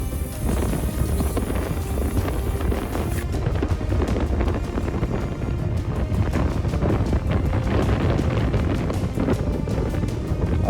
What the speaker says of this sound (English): The wind today is 35 miles per hour.